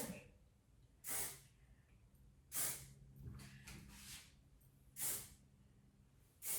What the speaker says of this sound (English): So I'm just going to spray a little bit.